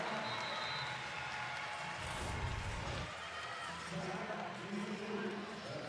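Crowd cheering at a college volleyball match, East Carolina versus Pitt in the ACC, swelling briefly after a kill, a roar of voices under continuous commentary.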